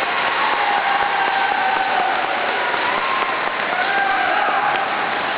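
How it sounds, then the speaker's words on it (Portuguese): An audience claps for Paulo at a donation handover at an APAE institution, a dense, even round of applause filling the whole stretch, with faint background voices. "uma salva de palmas para o Paulo também"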